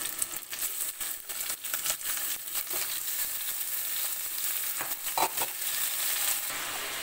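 Chicken pieces sizzle in hot oil with fried spices, turmeric and bay leaves in a pan, a steady crackling fry broken by occasional stirring scrapes, close and continuous with no talking.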